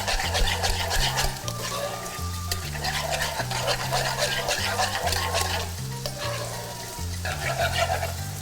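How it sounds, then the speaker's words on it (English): A sauce seasoned with pepper, salt and Cajun spice gets a quick whisk beside a sizzling steak, with brisk scraping and steady frying hiss up close over a low musical background. "Just a quick whisk."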